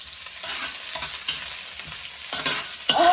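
Curry leaves crackle and sizzle in hot coconut oil, a steady dense frying hiss with scattered pops and a sharper burst near the end.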